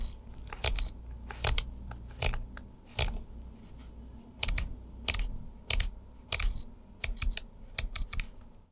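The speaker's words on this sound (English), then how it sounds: "The aperture is a bit noisy when you are changing the setting." The aperture of a TTArtisan 32mm f/2.8 autofocus lens clicks repeatedly as its setting is changed, giving quiet, sharp ticking bursts in an uneven rhythm, close to the microphone and without any talk.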